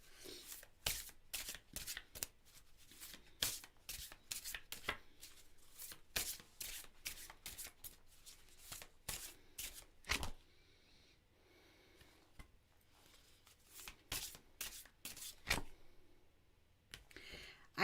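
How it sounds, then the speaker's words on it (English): Tarot cards shuffled by hand at close range: repeated crisp riffling bursts and soft card slaps in an uneven rhythm, with a short quieter stretch partway through and faint breathing but no speech. "I will pull a card for you, Melissa."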